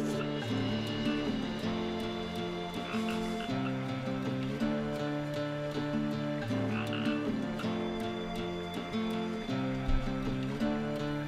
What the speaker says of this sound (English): Hear the frog.